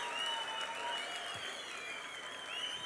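A festival crowd claps in a sustained burst of applause, dense and even throughout, with the whole gathering joining in from a moderate distance.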